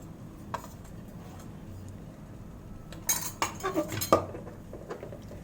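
A utensil stirs tomato puree into soya chaap curry in a pan, giving a quiet stretch followed by a cluster of close metallic clinks and scrapes near the end.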